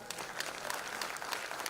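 Faint applause from a distant crowd at an investment workshop in Mumbai, a steady patter of clapping with no voices standing out.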